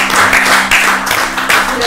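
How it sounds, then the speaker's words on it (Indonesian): An audience claps during a relaxed talk show with a colonel from Maluku, a loud, dense burst of applause with surging swells, heard close and alone. "Luar biasa, tepuk tangan dulu."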